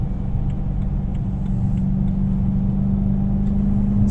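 A BMW M3 E92 with a Supersprint exhaust rumbles steadily at low, even revs, heard from close by as a continuous deep drone without pauses.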